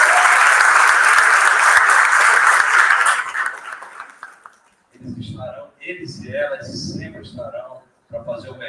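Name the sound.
audience applause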